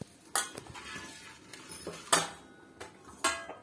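Ceramic plates being picked up and set down on a kitchen counter while making pizza at home, several sharp clinks and clatters spaced out over a few seconds, close and fairly loud with no talk.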